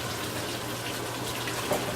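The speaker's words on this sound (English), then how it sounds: "when it's bubbling, that means it's really cooking and really getting good" Chicken frying in a pot of oil gives off a dense, steady sizzle and bubbling hiss, continuous and close.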